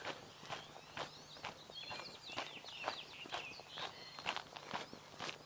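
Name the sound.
several birds singing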